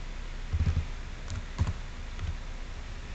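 Computer keyboard keys tapped while entering AutoCAD commands: a few soft, quick clicks in small clusters with pauses between them, fairly faint and alone with no talk.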